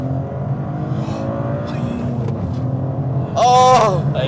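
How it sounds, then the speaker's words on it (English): A 2023 Toyota GR Corolla with a three-cylinder engine driving from inside the cabin, a steady engine drone that swells into a louder, rising rev near the end, with someone talking over it. "driving the Toyota GR Corolla"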